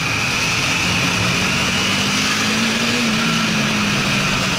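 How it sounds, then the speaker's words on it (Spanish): A Bajaj Dominar 400 motorcycle engine runs with a steady, loud, continuous drone and a high whine, close by and unbroken from start to finish, with no talking. "Anda bueno, anda muy bueno la moto"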